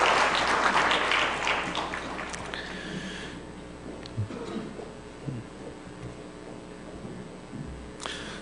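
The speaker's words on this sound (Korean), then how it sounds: "박수 한번 쳐주시기 바랍니다." Applause from a church congregation at a Sunday worship service, a dense wash of clapping that swells at first and then fades to scattered claps and quiet room noise.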